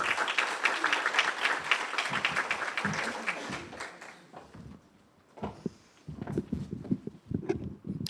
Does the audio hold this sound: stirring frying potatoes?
no